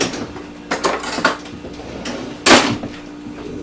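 Knife and utensils work on a grilled cabbage head, giving a few clattering scrapes and knocks of metal on a dish, close and loud, with one longer rasping cut near the end.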